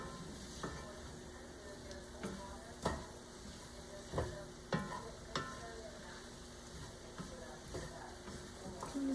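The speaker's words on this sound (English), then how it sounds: "See how the potatoes and onions are coated in that flour and butter? I'm just gonna let this cook for a couple minutes." Potatoes and onions cook in flour and butter for chicken pot pie soup, with a low, steady sizzle and several sharp clinks and scrapes of stirring against the pot, fairly quiet and without talk.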